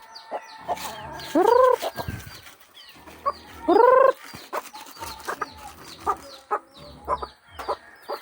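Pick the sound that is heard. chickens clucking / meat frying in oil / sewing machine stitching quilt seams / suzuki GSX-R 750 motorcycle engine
chickens clucking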